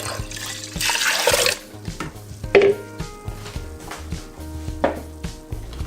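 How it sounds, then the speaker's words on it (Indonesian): Water is poured into coconut milk in a pot for cooking, giving a brief rushing splash followed by light clinks and dripping sounds, heard up close with no talking. "panaskan santannya dulu. Saya tambahkan air."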